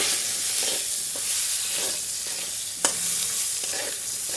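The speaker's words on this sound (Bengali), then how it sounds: "দিয়ে দেবো হলুদ ব্যাস এটার একটু ভেজে নেবো ভালো করে" Potatoes frying in oil in a pan with salt and turmeric, a steady close sizzle with soft stirring scrapes and one sharp clink of the spoon against the pan, no voices.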